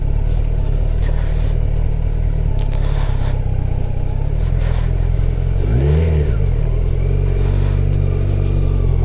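A motorbike engine revs and accelerates on rough off-road track over Sach Pass, loud and close throughout, with a rising surge of revs near the middle and a steady rumble under the wind.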